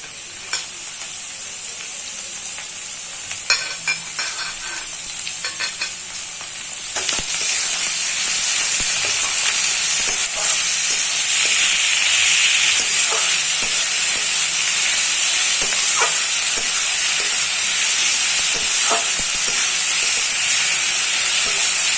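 Mushrooms frying in oil for a Bengali mushroom kosha, a loud continuous sizzle and hiss close up that swells after a few seconds. Intermittent scraping stirs run throughout.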